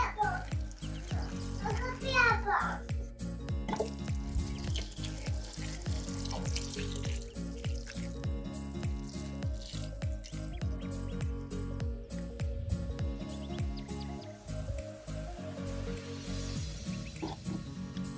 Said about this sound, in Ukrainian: Мої перчики, зараз їх також полью.